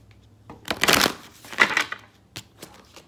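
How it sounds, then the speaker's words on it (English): Large tarot cards riffle and slap together in a few quick shuffles, with soft flutters and taps, close up and no talking. "These cards are so big, I feel like my little hands can't even control them fully."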